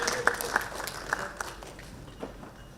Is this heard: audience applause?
yes